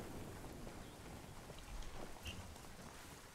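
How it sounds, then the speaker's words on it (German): Rain in the video game Ghost Recon Wildlands falls as a soft, steady patter with faint scattered drops and a low distant rumble, quiet throughout with no one talking. "Wer hat denn den Regen bestellt hier?"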